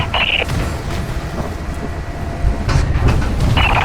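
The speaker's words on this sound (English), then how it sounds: "Jim, the tram is coming back up to you." A tram passing in the Lost Planet 3 video game, a loud rumbling rail roll with clattering and brief bright metallic screeches at the start and end.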